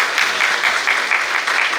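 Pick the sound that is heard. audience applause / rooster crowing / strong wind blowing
audience applause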